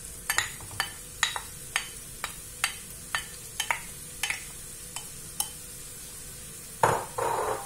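Chopped onion and shallot frying in a couple of spoonfuls of oil in a stockpot, a soft steady sizzle punctuated by a dozen sharp clicks of a utensil against the pot, then a louder stirring scrape at the end.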